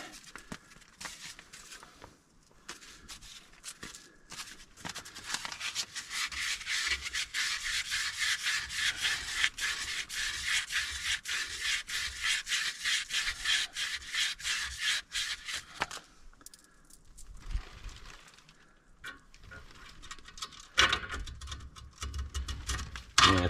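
A replacement front wheel bearing part for a 1960 VW Transporter being sanded: a steady, scratchy rubbing that runs for about ten seconds, with quieter scraping and light knocks before and after.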